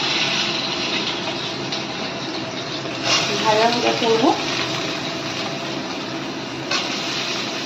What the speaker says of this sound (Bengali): এখন আমি এই কচুটা এখানে ছেড়ে দিলাম। ছেড়ে দিয়ে ভাজা করবো।